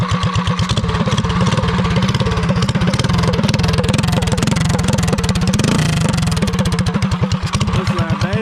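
An SFD Industries mini moto engine runs close by in the yard with a rapid, choppy putter, revving up and down loudly for several seconds without pause.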